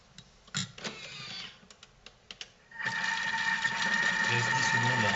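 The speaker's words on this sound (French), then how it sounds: "Je vais mixer." A blender whirs on steadily and loudly while mixing a cream filling of cream and Italian herbs for salmon and Gorgonzola ravioli, coming in after a few faint clicks and knocks of setting up.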